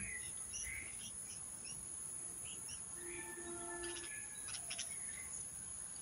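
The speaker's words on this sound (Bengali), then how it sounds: "কি সুন্দর পাখি ডাকছে, আপনারা শুনছেন তো?" Faint birdsong of chirps and short whistles drifts over a steady insect drone, fairly distant and quiet.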